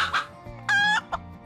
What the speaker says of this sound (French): En haut d'une clôture, une poule fière cacta.